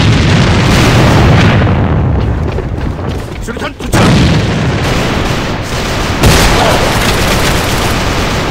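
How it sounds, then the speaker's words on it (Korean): A grenade detonation amid loud gunfire in the shooter A.V.A on the Dock map, a heavy boom within continuous dense combat noise, with shouted voice callouts in the mix. "전방 수류탄!"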